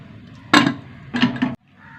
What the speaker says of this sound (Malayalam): പരിപ്പ് വെന്തു കിട്ടാം. ചട്ടിയിലേക്ക് മാറ്റട്ടെ.